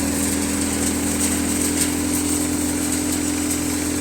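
A Param basket-model thresher from Visnagar, run off a tractor PTO at 540, threshes a sava (dill) crop with a constant close mechanical hum and engine drone, no voices.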